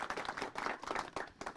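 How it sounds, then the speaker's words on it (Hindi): Applause from a village audience for an elderly farmer at a rural gathering on farming and millet nutrition, a short burst of scattered hand clapping heard close. "तालियां भाई बुजुर्ग दादाजी के लिए।"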